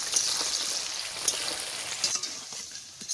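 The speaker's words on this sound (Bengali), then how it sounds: "আলুটা ভাজা বসাই দিচ্ছি" Potato pieces frying in a pan with a little salt give a soft, steady sizzle with faint crackles throughout, fairly quiet and with no voices.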